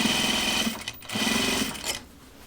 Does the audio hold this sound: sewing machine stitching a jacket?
yes